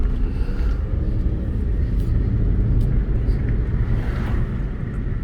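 Steady low engine rumble and road noise inside a high-mileage 2007 Ford Fusion SEL V6 sedan on a test drive at a dealer auction, a continuous dense drone with wind noise and no break.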